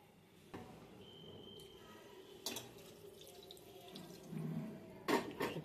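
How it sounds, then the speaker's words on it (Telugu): Water is poured into a pot of chicken curry being cooked with gravy, producing faint splashing and trickling in a few short bursts amid quiet kitchen background noise. "ఇప్పుడు నీళ్ళు పోసుకొని చేస్తాం."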